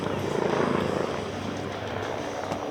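A helicopter at the Oregon International Airshow in McMinnville drones steadily with a throbbing rotor beat, loud and fairly close, holding a constant engine roar throughout.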